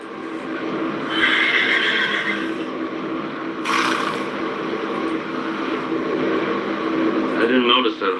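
A horse neighs in a loud, close whinny at about one second. A shorter neigh follows later over steady background noise, with faint clip-clop sounds.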